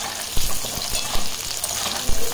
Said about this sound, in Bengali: আমি আলুগুলো এখন ভেজে নিচ্ছি